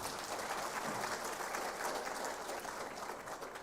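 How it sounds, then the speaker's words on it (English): An audience at a 2024 examination results announcement ceremony claps together in sustained, dense applause, heard from a distance and fairly faint throughout. "Let us give yourselves a round of applause."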